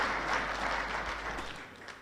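Audience applause at the induction of members of the National Assembly, a steady wash of clapping held for about two seconds, moderately loud and fading slightly toward the end.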